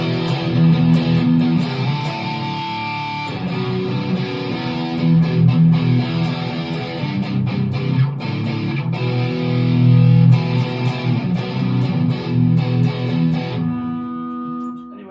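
A Fender 75th Anniversary Player Telecaster electric guitar plays loud chords and notes through a distortion pedal, strummed phrases sustaining alone before cutting off near the end.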